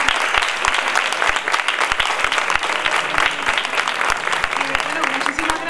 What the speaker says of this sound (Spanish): Un buen aplauso para ellos.